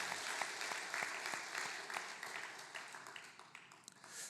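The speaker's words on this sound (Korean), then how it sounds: "우리 전도사님의 앞날을 기억하고 또 격려하는 마음으로 우리 박수로 응원하겠습니다." A church congregation at a Sunday service applauding to encourage a departing minister: a moderate, even wash of many hands clapping, heard from a distance in a large room and slowly fading.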